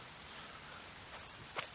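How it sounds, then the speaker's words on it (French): Rain falling in the video game The Forest, a soft even hiss of drops, faint and steady, with one brief sharper tap near the end. "comme vous pouvez le constater, quand il pleut dans The Forest"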